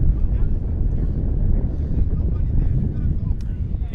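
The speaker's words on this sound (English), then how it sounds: "this might be the windiest soccer game that we've ever" Steady, heavy wind buffeting the microphone at an outdoor soccer game, with a constant low roar, no breaks, loud and close throughout.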